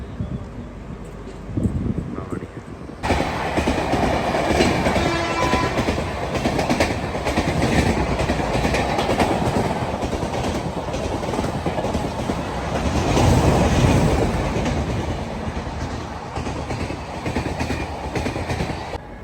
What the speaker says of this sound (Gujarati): એક કલાકથી ગાડી ઊભી હતી આ ટ્રેનની રાહે એટલે હવે સિગ્નલ આપ્યું છે તો હવે ગાડી અમારી ઉપડશે